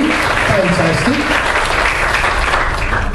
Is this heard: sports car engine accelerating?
no